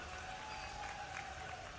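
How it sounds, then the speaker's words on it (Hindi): Audience at a farmers' rally in Indore clapping steadily, a dense wash of applause held at a fairly even level throughout with a faint tone running beneath it. "आपने ताली बजा के आनंद लिया है।"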